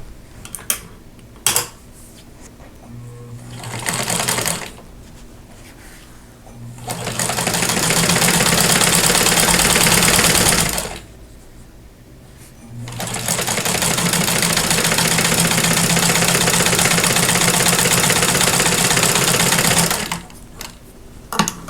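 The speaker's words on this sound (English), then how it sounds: "and then just sew those on." A sewing machine stitching quilt block pieces together runs in two long steady bursts of fast whirring, loud and close, with brief clicks and pauses between.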